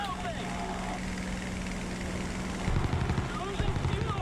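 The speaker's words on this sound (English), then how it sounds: "Can start to hear my engine sputter a bit." Damaged aircraft engine in the video game War Thunder, a steady droning hum that turns rough and uneven partway through, breaking into irregular sputtering bursts.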